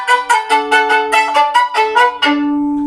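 Solo violin playing an opening phrase, a quick run of short bowed notes ending on a held tone, close and clear with no talking.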